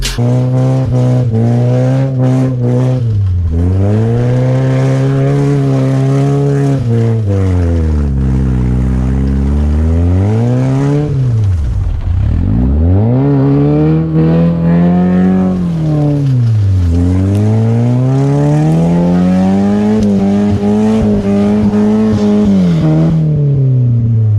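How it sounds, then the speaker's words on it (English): A coupe's engine roars loud and close as the gas is hit, pitch climbing and falling through repeated rev swells with a deep dip midway, continuous and alone with no voices. "Hit the gas on the coupe."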